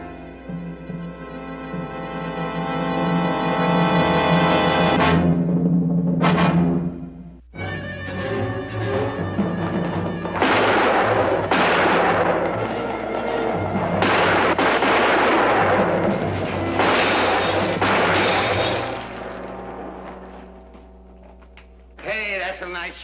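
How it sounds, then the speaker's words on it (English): Gunfire crackles among loud, dense bursts with broadband blasts of shooting over a low rumble, mixed with voices and music-like tones, then a brief drop near the end before a final sharp report. "that's some nice shooting"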